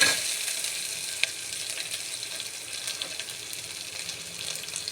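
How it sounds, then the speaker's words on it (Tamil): Onions frying in hot oil in a pan for meal maker biryani after cloves and cardamom go in, a dense close sizzle that holds steady with faint stirring scrapes and no talk. "வெங்காயம் போட்டு நல்லா வதங்கினதுக்கு அப்புறம்"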